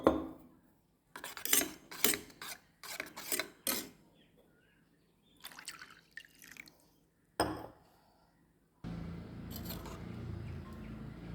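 A spoon clinks and scrapes against a bowl in short, quiet bursts while peanut powder is stirred into water, with a steady pouring or running-water hiss near the end.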